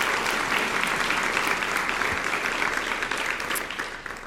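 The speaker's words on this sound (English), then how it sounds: "let's give them a round of applause" At a Rotary Club meeting, the audience applauds the school faculty and staff in a sustained round of dense clapping that gently tapers toward the end.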